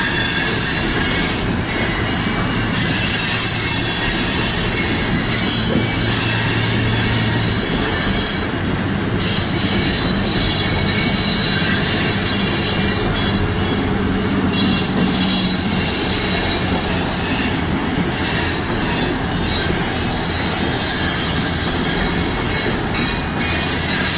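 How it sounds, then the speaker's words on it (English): A loaded BNSF coal train rolls past with metal wheels squealing against the rails, sustained high screeches rising and fading over a continuous heavy rumble of railcars, loud and close with no speech. "There's literally a coal drag coming out of this yard every 5 to 10 minutes."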